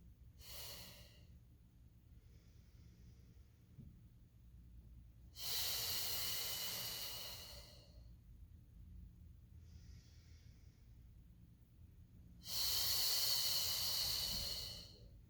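Slow, deep breathing during a Pilates mat class, loud airy exhales alternating with softer inhales in a steady rhythm, close and without speech.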